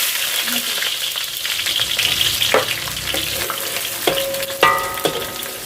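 Onion and lemongrass fry in a pan, a steady close sizzle broken by scraping stirs and a few sharp clinks of a utensil against the pan.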